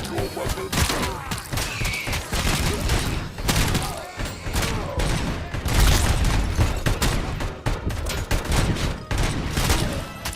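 Dense gunfire from the video game RoboCop: Rogue City, with rapid volleys of shots, thuds and booms nearly continuous throughout, and voices talking over the shooting.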